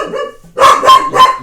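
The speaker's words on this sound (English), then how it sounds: "The barking was the dog." A dog barks three times in quick succession, loud and close, after a quieter stretch of low background sound.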